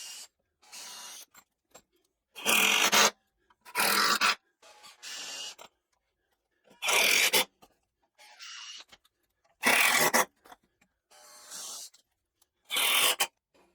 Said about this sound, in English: try out the new jointer to flatten the side of this